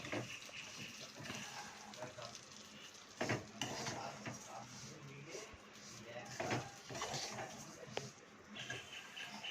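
A spoon stirs food around a pan in a busy kitchen, with a steady mix of scraping, clinks and a faint sizzle, and voices talk in the background.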